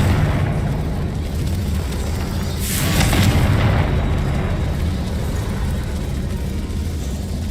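The Confringo spell in Hogwarts Legacy blasting a barrier: a single loud booming explosion with a crackling burst, over continuous game ambience.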